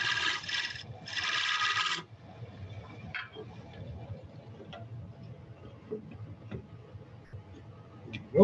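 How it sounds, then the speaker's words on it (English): A sharpened flat scraper ground to a negative rake works across wood while a staved bead box is made: two loud rasping strokes at the start, followed by quieter scattered ticks and light scrapes. "Now I'm going to use a flat scraper that I have sharpened to be a"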